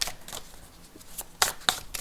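A tarot deck with an 1980s theme being overhand shuffled, giving soft papery riffles and slaps in a loose, uneven rhythm, close and fairly quiet.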